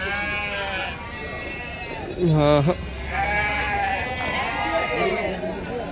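A sheep or goat lets out one loud, wavering bleat mid-clip at a livestock market, with people talking and outdoor background noise around it.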